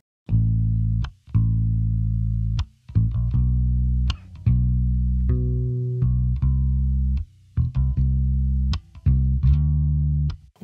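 Electric bass processed through the Brainworx bx console plugin, a digital emulation aimed at an analog sound, plays a loud phrase of held notes broken by brief pauses and crisp picked attacks, with no talk.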